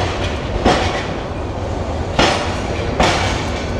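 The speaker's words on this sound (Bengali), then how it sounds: "ঠিক 11টা 15 মিনিটে আমাদের train Jayantika express Kamalapur rail station থেকে সাইরে চলে যাচ্ছে" The Jayantika Express pulls out of Kamalapur railway station in Dhaka, a loud steady rumble of rolling wheels and carriages with three sharp clattering bursts from joints and couplings, close by and without voices.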